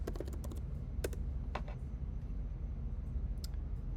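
Keys on a computer keyboard are typed in quick, faint, scattered clicks over a low steady room hum, with a short burst at the start and a few isolated taps afterward.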